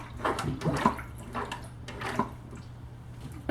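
Water siphons through the hoses of a Sunsun HW-303B canister filter, making soft gurgling, splashing and dripping sounds in short irregular bursts, close by and moderately quiet.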